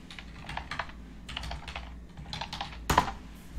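Close, quick bursts of clicky computer keyboard typing come in short uneven clusters with small pauses, ending in a sharper keystroke, and no one speaks.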